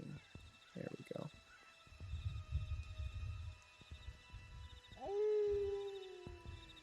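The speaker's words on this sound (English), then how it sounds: "Begin to hear howls surrounding you" Wolf howls as a tabletop role-playing sound effect in a misty forest road scene: rising, sustained howls, one long one fading out, with faint talk and low rumble underneath.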